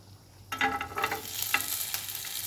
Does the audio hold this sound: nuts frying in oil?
yes